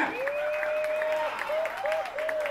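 An audience applauds the musicians of a jazz band in a live set, a steady patter of clapping beneath a sustained tonal line, with a voice calling out over it.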